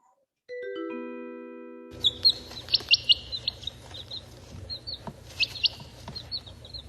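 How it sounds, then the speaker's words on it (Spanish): A chick chirps in a string of thin, high peeps over a low background hum, after a brief rising chime. "El Pollito. pollito."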